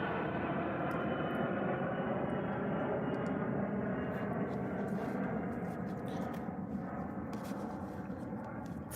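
An airplane drones steadily overhead, a broad continuous engine rumble holding even for several seconds and fading slightly toward the end, with no speech.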